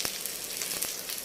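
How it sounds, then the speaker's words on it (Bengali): Spice masala frying in a pan for cabbage curry with fish head, a soft continuous sizzle with a few faint clicks of a spoon, heard close and without voices. "মাছের মাথা দিয়ে বাঁধাকপির তরকারি, তার মশলা কষানো হচ্ছে"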